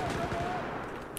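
A rapid burst of Battlefield 4 gunfire crackles, with a faint voice underneath and a sharp click near the end.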